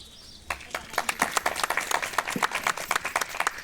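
Crowd of schoolchildren and guests clapping at an Independence Day flag hoisting, starting abruptly after a quiet moment and continuing as brisk, uneven applause at moderate distance, with birds faintly chirping.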